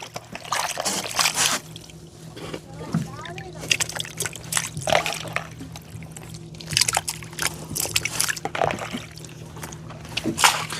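Water sloshing and splashing in a container as dried fish is swished and rinsed by hand in fresh water, with intermittent bursts under a low background hum.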